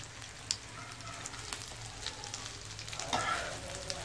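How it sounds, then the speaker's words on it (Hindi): Paneer cutlets fry in a pan over a medium flame, giving a quiet, even crackle. Scattered pops and a few soft taps of the utensil sound across it, and nobody speaks. "मीडियम आंच पे मैं इसे फ्राई करूंगी।"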